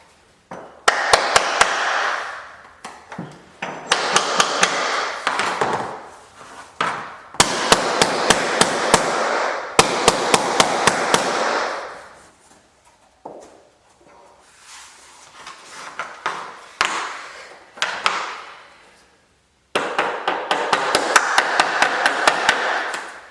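Rapid hammer taps ring out in quick bursts, knocking waterproof vinyl floor planks into place, with brief pauses between groups; close and sharp, with some scraping.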